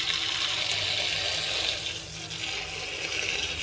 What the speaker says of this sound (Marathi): तर मी तिला स्वच्छ घेते धुवून. हिला 2 पाण्याने धुवून काढले.